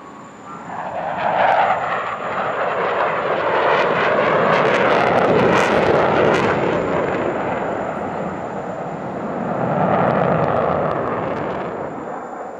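A pair of aerobatic display aircraft at Dubai Airshow 2023 roar past in opposing rolls and crossing passes, engine noise swelling loud, holding, easing, then surging again as another pass arrives.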